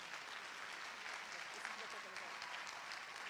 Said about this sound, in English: Please join me in giving Ms. Castillo and Ms. Barahoma a heartfelt round of applause for their dedication and service.